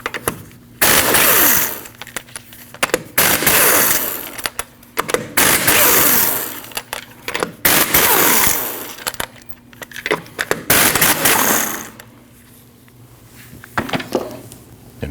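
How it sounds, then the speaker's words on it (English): A power tool loosens the 19mm lug nuts on the front wheel of a 2003-2008 Subaru Forester, with loud rattling bursts of a few seconds each, separated by short pauses, and a quieter stretch near the end. "you need to remove your 5 lug nuts"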